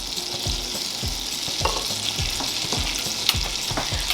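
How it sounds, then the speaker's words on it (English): Cooking oil and butter sizzle together in a small pan, a constant close hiss broken by regular soft knocks and scrapes as the fat is stirred, with no talk over it. "I mix the cooking oil and butter together so that the butter doesn't burn."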